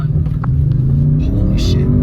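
An Audi RS6 Avant idles and holds revs at a launch-control start, a steady low engine rumble with brief clicks and a hiss over it.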